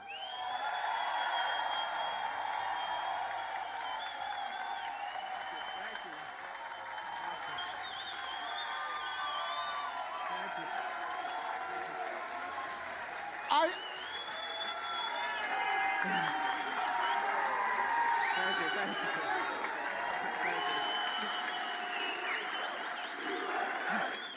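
A large home crowd at a wrestling event applauds and cheers steadily, a dense wash of clapping and voices that stays strong throughout, with a brief sharp knock partway through.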